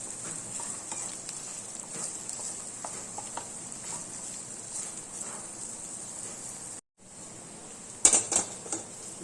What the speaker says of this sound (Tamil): வெண்டைக்காய் அதில் சேர்ந்து ஃபுல்லாக ஃப்ரை ஆகி வரட்டும்.